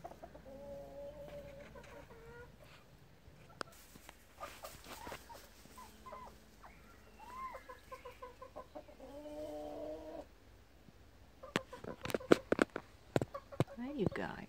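Chickens clucking at a guinea pig rescue village in the Netherlands, with bursts of fowl calls scattered through the clip and a woman chatting warmly over them; a dog also barks near the end.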